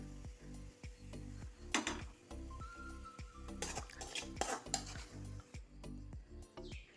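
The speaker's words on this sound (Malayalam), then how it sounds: "വറുത്തെടുത്ത ഇഞ്ചിയും ഉള്ളിയും കൂടെ നമുക്കൊരു മിക്സിയുടെ ജാറിലേക്ക് എടുക്കാം" Fried ginger and onion are scooped from a pan with a spoon, giving repeated scraping and clinking strokes of utensil on metal over a faint sizzle, loud and close with no voices.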